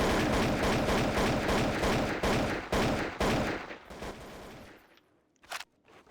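A rifle firing in Counter-Strike: Source, a rapid burst of loud, closely spaced shots that continues for several seconds, then stops, leaving a brief quiet tail with a couple of faint clicks.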